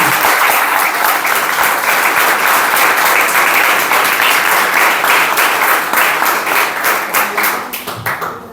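An audience at a book presentation bursts into sustained, dense applause, loud and steady for several seconds before thinning out into scattered claps.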